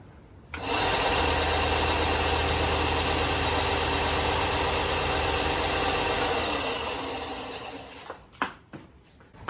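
A Ryobi belt and disc sander starts up and runs with a steady whirring drone for several seconds, then winds down, followed by a few scraping knocks.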